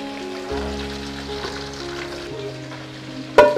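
Spicy eel stir-fries in a pan, a steady close sizzle with faint stirring and a sharp clatter near the end.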